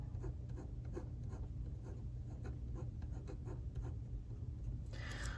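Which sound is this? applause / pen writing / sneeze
pen writing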